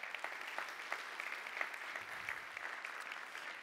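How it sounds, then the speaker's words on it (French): A conference hall audience applauds the speakers at the close of a plenary session on renovation, steady moderate clapping throughout with no talk over it. "Si vous voulez bien applaudir une dernière fois tous nos"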